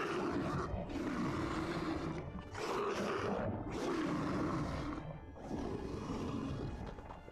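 Tiger roaring in a Bengali hunting story sound effect: loud, rough growling roars in several long surges with brief dips between, close and continuous, with no talk over it.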